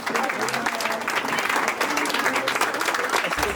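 Dense, loud audience applause fills a hall at a student talent contest as jurors and contestants gather on stage for a group photo, continuous clapping without pause.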